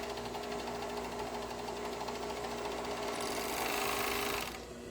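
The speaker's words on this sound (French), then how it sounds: "je vais coudre ça endroit sur endroit sur mon dos" A sewing machine sews garment fabric pieces right sides together in one continuous close mechanical hum with rapid needle ticking, rising slightly in speed before easing off near the end.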